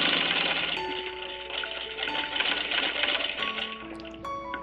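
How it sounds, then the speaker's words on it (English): A 1935 Singer 15-88 all-metal treadle sewing machine runs in a fast, steady mechanical whir and clatter, close and continuous, with a few light metallic clicks. "there's such a confident, rewarding sound to an all-metal quality sewing machine"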